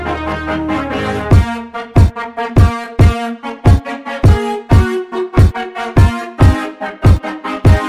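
Punchy kick drum sample from a song, hitting in a steady evenly spaced beat over sustained brass chords after a brief lead-in, loud and up front with no talking.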